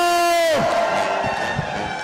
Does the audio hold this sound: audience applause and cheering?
yes